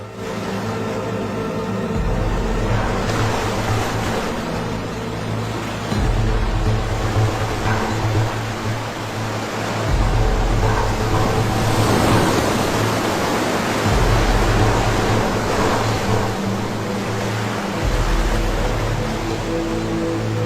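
Ocean waves break on an island shore in a steady, loud rush of surf with periodic swells rising and falling every few seconds, with no voices.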